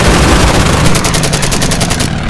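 Loud, dense gunfire from the World War II strategy game Order of Battle: Burma Road, a rapid burst that stops abruptly near the end.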